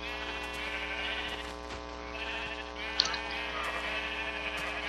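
Minecraft sheep bleating in the Xbox 360 Edition game, a few short nasal bleats over a steady hum of game background sound.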